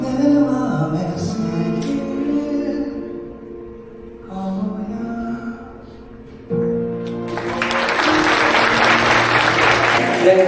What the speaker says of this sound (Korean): 이 분에게 다시 한번 뜨거운 박수를 보내주시길 바라겠습니다